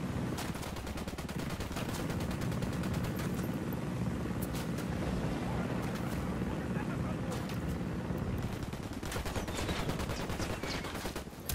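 Helicopter in the video game Ghost Recon Wildlands, a loud continuous rotor thump mixed with bursts of gunfire and shouted voices throughout.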